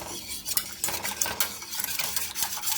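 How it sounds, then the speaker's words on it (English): Three pounds of cherries stirred in a pot of thick syrup, a close, busy run of wet sloshing and spoon scrapes against the pot, with no voices. "I'm going to go ahead and stir this here"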